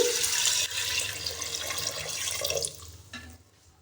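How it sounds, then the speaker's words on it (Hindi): Water pours steadily into a pot of aloo gosht on the stove, a continuous close splashing rush that tapers off and stops near the end. "ये डालने के बाद अब मैं इसमें पानी ऐड करूंगी"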